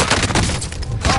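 Sustained automatic fire from the Bryn light machine gun in Call of Duty Warzone, a dense, loud stream of rapid shots filling the whole moment with no pauses.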